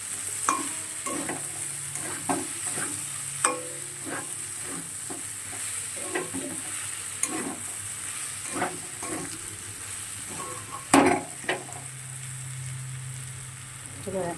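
Soybean curry sautéed in a pan, with a steady rhythm of spoon scrapes and stirring clatter over a soft, continuous sizzle of frying oil, close and moderately loud.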